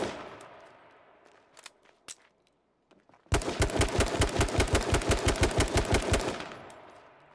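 Video game gunfire: a few scattered single shots and a quiet pause, then a loud sustained burst of rapid automatic fire with evenly spaced cracks that rings on, up close, with no talking.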